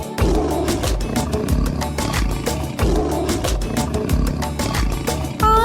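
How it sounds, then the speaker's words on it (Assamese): A tiger or lion roars, loud and forceful, layered over a rhythmic percussive music track that pulses throughout. "বাঘ সিংহই গোজৰ মাৰে"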